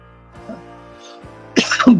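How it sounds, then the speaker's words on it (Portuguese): A short throaty cough or throat clearing near the microphone during a presentation, sounding over a faint steady hum in the background. "a tosse bateu aqui no meio da apresentação"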